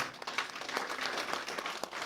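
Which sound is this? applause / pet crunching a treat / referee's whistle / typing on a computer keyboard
applause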